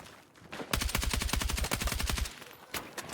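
Carbine fire in Battlefield 6, a rapid full-auto burst of closely spaced loud shots lasting over a second and a half, followed by a couple of single shots.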